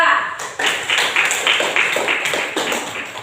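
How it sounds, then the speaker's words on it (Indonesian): Classroom applause for a student group: several people clap together in a quick, steady rhythm, moderately loud and fairly close, with faint voices underneath. "tepuk tangan untuk kelompok 2"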